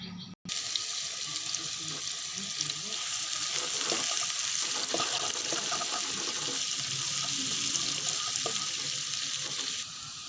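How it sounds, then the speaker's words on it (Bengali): Chopped onions fry in hot oil in a kadai wok while a Bengali fish curry with tangra fish and snake gourd is being made, giving a steady, loud, close sizzle that crackles continuously throughout. "কড়াইয়ে তেল দিয়ে দিছি, এখন কড়াইয়ে পেঁয়াজ দিয়ে দেব।"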